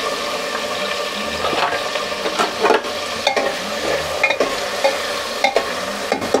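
Cumin and whole coriander seeds crackle and sizzle in hot oil in a pan while cooking aloo baingan sabzi, a steady frying hiss broken by sharp pops and clicks, close and alone with no talk.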